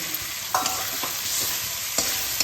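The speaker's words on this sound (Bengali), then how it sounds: "এবার আমি ভাজা ডিমগুলো এর মধ্যে দিয়ে কষিয়ে নেব" Fried eggs being stirred into spiced masala in a pan: a steady sizzle broken by several scraping clinks of a spatula, close and clear with nobody speaking.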